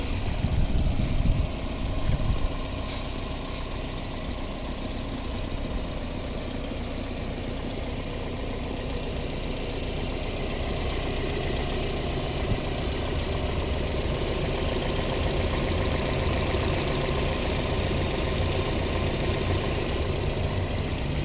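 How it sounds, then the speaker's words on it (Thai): A Toyota Vios 1.5 S engine idles steadily and smoothly for the whole stretch, a close, even mechanical hum with no speech over it. "คุณลูกค้าลองฟังเสียงเครื่องยนต์ได้นะครับ"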